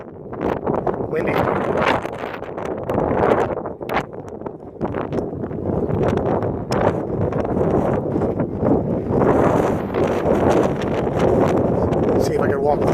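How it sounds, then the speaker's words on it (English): Strong wind buffets the microphone at Zabriskie Point in Death Valley, a loud, steady, rumbling roar that gusts unevenly throughout, with a person's voice faintly mixed in beneath it. "Windy."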